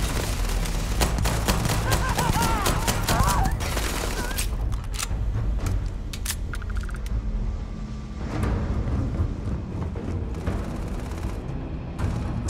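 Rapid bursts of video game gunfire crack out in clusters over a rumbling combat backdrop, with a player's voice talking over the first few seconds before the shots continue alone.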